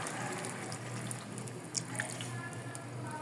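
Water is poured into a pan of simmering paksiw na hasa-hasa with eggplant and okra, giving soft trickling and dripping splashes over a faint bubbling background, quiet and close.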